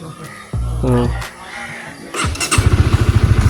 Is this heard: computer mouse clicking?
no